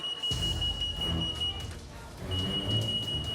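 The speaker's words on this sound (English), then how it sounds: "the store alarm starts beeping" A high, steady alarm tone beeps in two long bursts over a low rumbling background, fairly loud and sustained.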